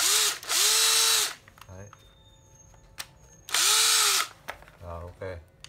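An old Nati 12V cordless drill whirs in two loud bursts, its pitch rising and falling as the speed changes, with brief clicks and short speech between runs.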